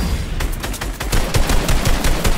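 Rapid bursts of Fortnite gunfire crack out in quick succession, loud and close, a steady stream of shots running through most of the moment.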